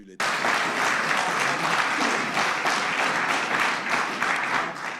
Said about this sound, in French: Patrice Talon déroule un discours de 24 minutes reçu bien souvent par les salles d'applaudissements.